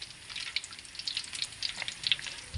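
A whole duck frying in hot oil gives a close, steady crackling sizzle with quick popping bursts scattered throughout, no voices.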